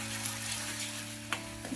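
Soya chaap masala spices of Kashmiri and regular red chilli, coriander powder and turmeric fry in oil while being stirred, a close, continuous sizzle broken by two quick scraping strokes of the spoon.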